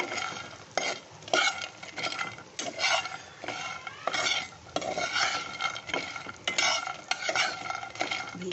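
Vegetables fry in a pan for a Puri temple-style mahura dish, with repeated metal spoon scrapes and clinks against the pan over a soft sizzle, close and busy throughout.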